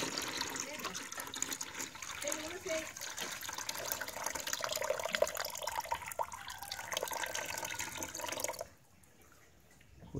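Water pours and trickles into a container set up for betta fish breeding, a steady liquid sound running under a speaking voice for most of the stretch, then cutting off and leaving near silence at the end.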